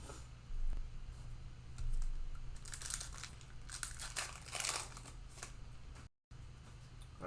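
A cello-wrapped pack of 2021 Mosaic football trading cards is torn open, giving soft bursts of plastic crinkling and rustling close by. Between the bursts the wrapper handling stays quiet, and no one speaks.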